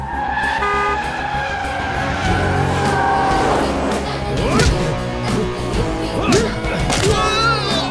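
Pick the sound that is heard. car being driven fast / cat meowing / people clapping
car being driven fast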